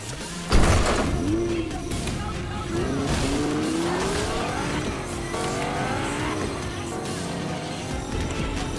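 A car driven in the video game Fortnite revs and squeals its tires through repeated skids and turns, with a sharp impact near the start and engine pitch rising and falling; voices are faint beneath.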